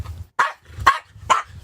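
A dog barks close by in four sharp, separate barks at an even pace, with short quiet gaps between them and no talk over them.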